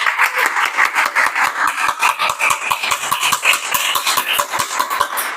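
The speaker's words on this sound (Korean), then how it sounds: "박수." A church congregation claps together in a fast, steady, rhythmic beat, loud and close, with each clap sharp and evenly spaced throughout.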